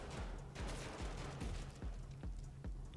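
Rapid repeated shotgun blasts in the video game Shot Gun Cop Man land in a steady rhythm of about seven booming shots over a few seconds over a continuous game background hum; no speech.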